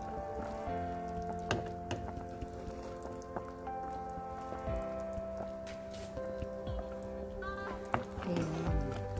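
Pork stew (nilagang baboy) boils in a pot, giving a steady, close bubbling and simmering patter with a faint tonal hum underneath, continuous throughout.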